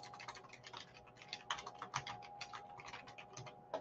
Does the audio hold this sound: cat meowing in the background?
no